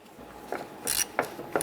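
Ratchet clicking on a lower bolt during water pump removal on a 1997-2006 Jeep Wrangler: three short bursts of close metallic ratcheting, each a quick sequence of clicks, with quiet gaps between them.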